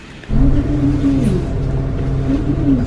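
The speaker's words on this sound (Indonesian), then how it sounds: "Kita udah di bus." A bus engine hums and rumbles steadily from inside the moving vehicle in Japan, starting abruptly and holding a continuous low drone with slight shifts in pitch, with no talking.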